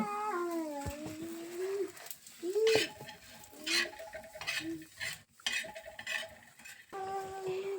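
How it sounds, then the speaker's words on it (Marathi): Ingredients fry in oil in a pan while being stirred, with quiet intermittent scraping and clinks over a soft sizzle. "थोडं लालसर होईपर्यंत याला तळायचं हे बघा सगळं अशा प्रकारे भाजून घ्यायचं"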